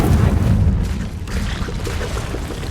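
A Confringo blasting spell in Hogwarts Legacy goes off inside a cave as a deep, booming burst at the start, then rumbles and fades into a lower, lingering roar.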